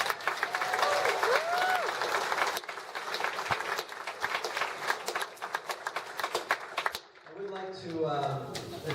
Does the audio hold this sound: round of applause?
yes